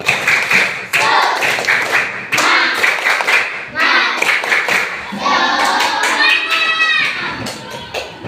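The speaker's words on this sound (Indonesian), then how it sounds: "Tepuk semangat" Fifth-grade elementary pupils in a religious education class perform a rhythmic spirit clap, sharp bursts of loud, close hand claps in patterned groups with brief pauses, as the children chant along.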